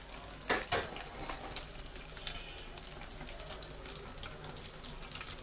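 Large freshwater prawns fry in a pan with a steady, hissing sizzle that stays fairly even throughout at moderate loudness.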